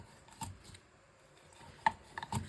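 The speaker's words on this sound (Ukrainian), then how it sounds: "а цього карасика ми можемо такими полосочками порізати навскоси" Knife slicing a crucian carp diagonally into thin strips on a board: a few soft, spaced cuts and taps, with one sharper knock near the end, quiet and close.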